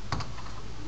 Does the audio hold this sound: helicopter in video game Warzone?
no